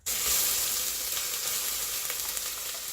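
Pureed onion hits a hot pot for spaghetti sauce and sizzles loudly at once, a bright steady hiss that holds on with light crackles, close up and without talk.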